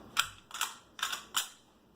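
A Springfield XD-40 pistol's slide is worked by hand, giving four crisp mechanical clicks in quick succession, close and quiet, with no talking.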